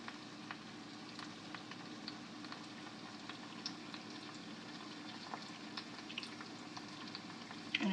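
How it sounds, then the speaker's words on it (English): Fresh eggs fry in a pan with a soft, steady sizzle and scattered light crackles and pops, faint and continuous throughout with no talking. "I'm going to finish frying up my eggs"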